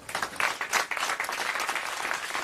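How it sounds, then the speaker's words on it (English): Team at Mission Control in California applauding the end of the Cassini mission, a burst of dense clapping with a few louder peaks early, then steady and even. "hugs and applause"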